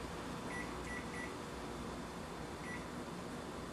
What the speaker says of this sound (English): I'm going to put my timer on.